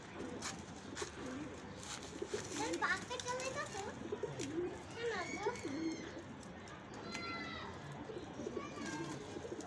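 Pigeons coo and call amid a busy loft, with birds of the khaki line among them; several overlapping coos and calls come close, and children's voices and other talk are heard in the background throughout.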